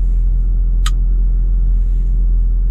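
Steady low road rumble of a car driving on an early-morning trip toward Montreal, constant and close with no talk, and a single brief high click near the start.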